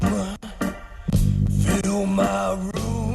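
Dark, carnival-flavored song built on a droning organ-like tone, steady low bass and rhythmic hits, playing loud and continuous with a few sharp breaks.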